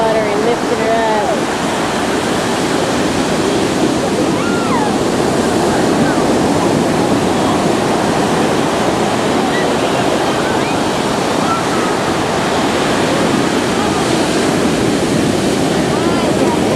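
Ocean waves wash continuously at the shore in a steady, loud roar of surf with wind buffeting the microphone, and faint voices occasionally mixed in.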